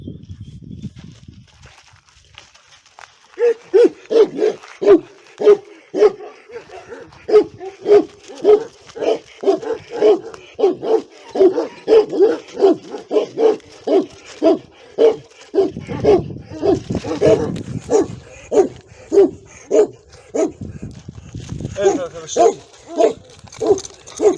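Dogs, including a Turkish Kırık-line hound, bark repeatedly in a loud, rhythmic series of deep barks close by, with some rustling and a voice in the background.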